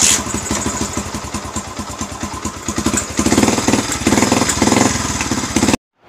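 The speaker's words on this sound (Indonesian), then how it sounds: "dari contoh tersebut bisa dilihat ya, bunyi motornya mati-matian" A Yamaha Vixion motorcycle engine with a weak rectifier sputters unevenly, its rhythm stumbling and surging louder midway before cutting out abruptly; it is close and loud, with no talk.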